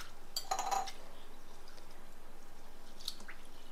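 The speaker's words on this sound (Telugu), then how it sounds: "బాగా 2-3 సార్లు కడుక్కొని" Basmati rice being washed in a bowl, a quick burst of wet swishing and clinking near the start, then quiet with a faint drip or knock later.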